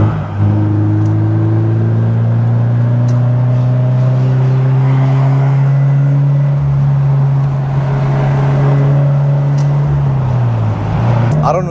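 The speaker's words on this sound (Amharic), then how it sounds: "ይሄ አሁን የምነዳው BRZ ሎው RPM ላይ ያን ያህል ኪክ አይኖራቸውም ማለት ነው።" A Subaru BRZ on wide, grippy non-stock tyres drives at low RPM, its engine a loud, steady drone heard from inside that holds an even pitch and dips slightly near the end.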